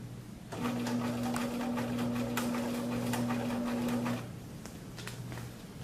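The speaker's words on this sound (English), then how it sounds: "I'm going to sew my other 1/2 inch seam allowance across here" A sewing machine runs a half-inch seam allowance across a garment corner seam, with a steady, close motor whir lasting about three and a half seconds before stopping into quiet room tone.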